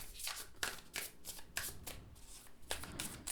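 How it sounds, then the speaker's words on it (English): Tarot cards shuffled overhand, a quick series of soft slapping flicks in an uneven rhythm, close and quiet. "And overhand, it shuffles really nicely as well."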